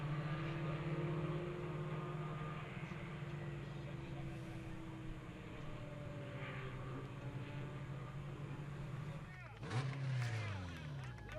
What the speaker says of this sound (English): For the second year in a row, Denny Stain brings his beautiful Mazda down into the medal staging area as a national champion in the STL category.